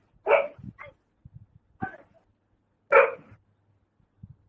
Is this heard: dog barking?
yes